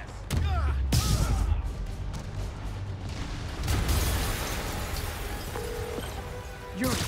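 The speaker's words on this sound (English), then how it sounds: "an explosion just..." A loud, deep explosion bursts from the Spider-Man PS5 video game at the start. A rumbling game soundscape continues after it, with voices in the background.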